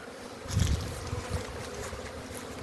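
Honeybees buzzing around hives at an apiary on a warm winter day, a continuous low drone with a louder swell as bees pass close, steady and free of talk.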